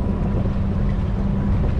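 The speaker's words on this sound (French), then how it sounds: "C'est encore du vent de l'Est." East wind roars across the microphone while sailing a boat near Gibraltar, a loud, constant low buffeting rush with water noise beneath it and no voices.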